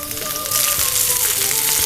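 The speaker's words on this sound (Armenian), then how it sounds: "Հիմա պետք է թեթև տապակենք բոկչոյը։" Bok choy frying lightly in a pan gives a steady, loud sizzle that crackles throughout with no talking.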